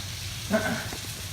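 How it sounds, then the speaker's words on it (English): Chicken tenderloins sizzle in a frying pan, a steady close hiss with a brief louder swell midway and no talk. "So you still get that nice sizzle going."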